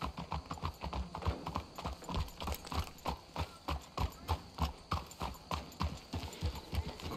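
Horse hooves clip-clop in a steady, rhythmic gait in the Western video game Red Dead Redemption 2, close and clear, with a faint whinny and no talking over it.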